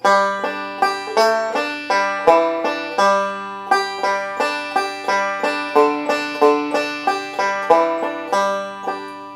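A banjo picks a quick, steady run of bright plucked notes, rolling patterns flowing continuously at close range with no voices.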